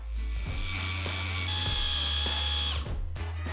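A blender grinding ginger into paste whirs steadily up close, its motor whining higher for a few seconds and then dropping as it slows.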